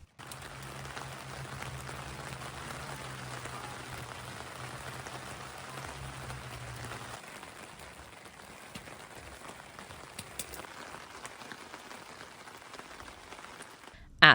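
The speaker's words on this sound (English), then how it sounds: "At this point, the rain's really coming down" Rain falls steadily on a tent canopy at a spring camp. A constant, fine patter of drops continues throughout, with a low hum in the first half and a sharp knock at the very end.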